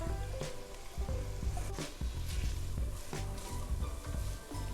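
Carrots sautéing in a pot for broccoli cheese soup: a low, fairly faint sizzle with scattered stirring knocks, over a dense background hum.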